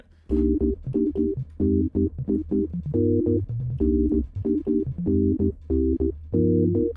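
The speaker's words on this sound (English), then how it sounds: "choppy sine wave chords like that" Choppy sine-wave chords in a UK garage track, short clean stabs over a deep bass in a syncopated chopped rhythm, loud and upfront with no voices.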